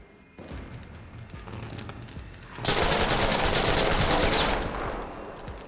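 Sustained AK rifle fire in The Last Stand: Aftermath, a loud dense automatic burst, softer shots first, then a continuous roaring volley for several seconds before easing off.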